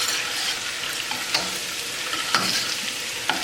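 Ginger frying in a pan, a continuous crackling sizzle with three distinct scraping strokes of a spatula spaced about a second apart, close and fairly loud.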